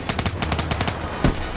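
Automatic gunfire in Call of Duty: Black Ops 3 rattles in a fast, even burst of loud, close shots, ending with a heavier thump.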